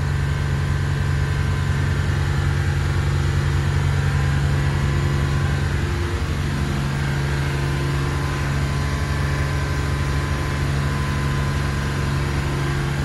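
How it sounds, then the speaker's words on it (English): Twin Volvo Penta KAD300 diesels driving a Birchwood 370 Commando boat at about 2800 RPM and 22 knots, a loud, steady, unbroken engine drone with a low hum and no talking. "This is us running at about 2800 RPM."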